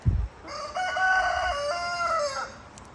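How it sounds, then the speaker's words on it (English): A rooster crows once, a long drawn-out call at moderate distance, preceded by a brief low thump. "Look, that's a rooster right there"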